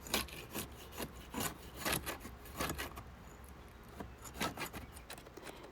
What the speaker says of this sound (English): You first want to remove any loose paint, wood fibers, and debris with a scraper or stiff brush.